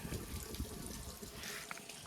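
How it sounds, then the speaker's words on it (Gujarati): Running tap drinking water pours steadily into a container, a continuous splashing rush with some low knocks and clatter underneath. "તો જો પીવાનું પાણી ભરાય છે"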